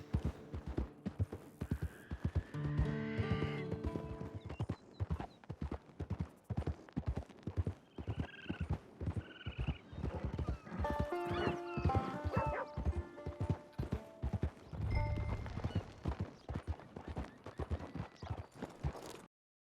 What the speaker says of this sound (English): Pego meu cavalo, Pangaré desnutrido, e sigo viagem até a estação de Blackwater